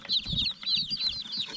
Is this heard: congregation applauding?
no